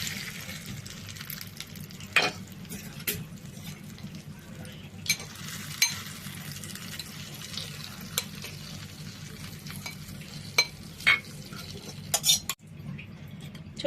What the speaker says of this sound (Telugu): తాలింపు వేసేద్దామండి.